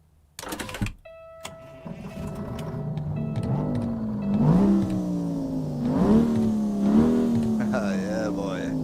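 A diesel truck engine in American Truck Simulator revs up in repeated climbing pulls over a steady idle drone, following a brief clatter at the start, with a voice talking faintly underneath.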